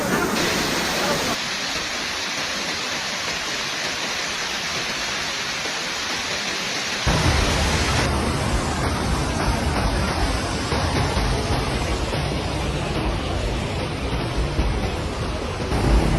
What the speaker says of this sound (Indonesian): Kondisi di Kedung Sari semakin mengkhawatirkan ketika air sungai meluap hingga ke